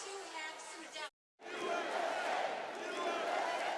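Cheering convention crowd in Milwaukee greeting former President Donald Trump's entrance, a loud roaring wash of voices that cuts out briefly, then returns full and sustained.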